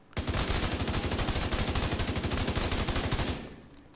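The Eagle Bearer exotic assault rifle fires one sustained full-auto burst on a firing range in The Division 2, rapid, evenly spaced loud shots that stop abruptly, leaving a short fading tail.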